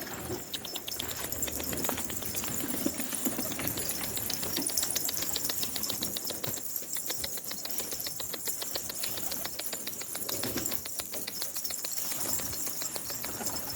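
Released pigeons flapping their wings and taking off from a coop, a dense, steady whirring of many wingbeats close by that runs throughout, with no talk over it.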